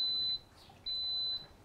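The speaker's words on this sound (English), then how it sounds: "Don't miss the beep." Two sustained electronic beeps from a kitchen appliance just set to a manual cooking time while Hawaiian lau lau cooks, each tone steady and clear, separated by a short pause, with a quiet room underneath.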